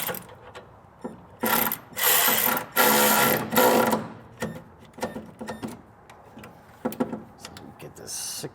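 A 1/2 inch ratchet snugs a nut onto a B and W Turnoverball underbed gooseneck trailer hitch, giving several bursts of rapid clicking ratcheting, close by, separated by short pauses and lighter clicks.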